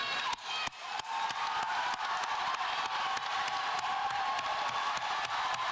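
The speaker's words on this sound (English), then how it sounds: "join me in giving them a thunderous round of applause that they deserve" A graduation ceremony audience claps for loved ones, with a broad wash of sustained applause and scattered cheers filling the space at a steady level after a couple of sharp hits at the start.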